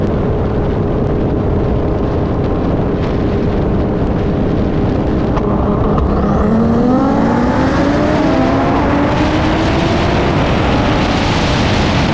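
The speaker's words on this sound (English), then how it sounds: "we're gonna take out the R8 and we're gonna take out my GTR and we're gonna run them side by side to get some pulls in" Two cars, a 1300 HP Audi R8 and a Nissan GT-R, accelerate hard side by side, the engine roar climbing in pitch through the gears with heavy wind buffeting, loud and continuous.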